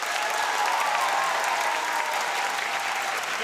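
Steady, loud audience applause at a sung improv show, the Maestro d'impro chantée at the Impro en Seine festival, a dense crowd clapping continuously for player number 6.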